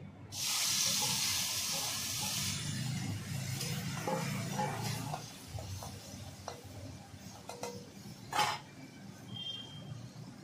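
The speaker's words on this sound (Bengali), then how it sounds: "চিংড়ি মাছগুলো আগে ভেজে নেব, নুন হলুদ মাখিয়ে নিয়েছি।" Shrimp coated in salt and turmeric drop into hot oil with a loud initial hiss that settles into a quieter, steady sizzle with scattered ticks and pops, with no talk.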